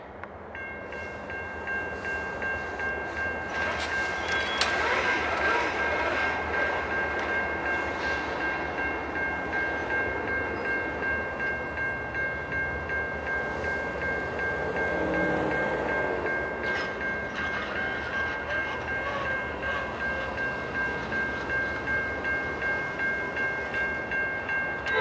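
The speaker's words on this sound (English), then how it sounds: "we have a diverging clear for a train to go into the CWRY." A Norfolk Southern train approaches on a diverging route with a continuous rolling rumble and wheel noise, joined by a steady high horn-like tone that swells and eases over a long stretch, with no voices.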